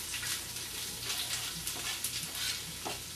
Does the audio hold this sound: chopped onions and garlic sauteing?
yes